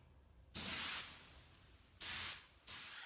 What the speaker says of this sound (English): a low volume, low pressure spray system